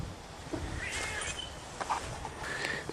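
A cat meowing a few times close by in a workshop while a Honda CB450 go-kart engine is being worked on, with short, moderately loud calls over background noise.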